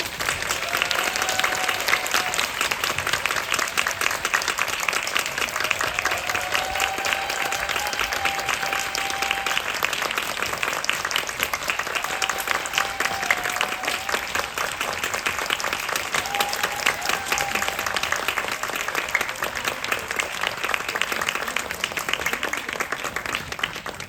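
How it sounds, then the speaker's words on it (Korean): A cinema audience at a director and cast Q&A screening of Linda Linda Linda welcomes them with sustained, loud applause, thick continuous clapping from a large crowd with occasional whoops over it. "큰 박수로 환영해 주시기 바랍니다"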